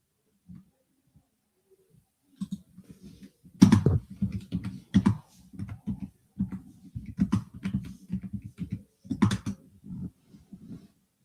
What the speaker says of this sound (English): I'm probably not typing the title right.